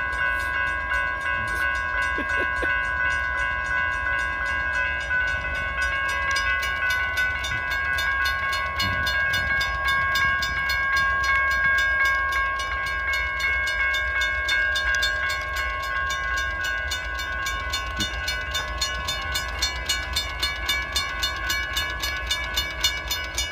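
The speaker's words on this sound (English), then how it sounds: "Federal Signal Mechanical Bell." Federal Signal mechanical crossing bell ringing steadily as a Norfolk Southern train passes on the former Conrail Detroit Shoreline at Emmons Boulevard, Wyandotte, Michigan, with rail rumble underneath and the bell's even strokes loud throughout.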